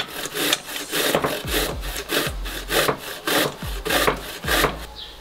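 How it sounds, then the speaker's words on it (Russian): Fresh zucchini rubbed against a coarse kitchen grater into a small bowl, a steady series of rasping strokes about twice per second, close and clear with no talking. "От кабачка отрезаем все лишнее и натираем через крупную терку."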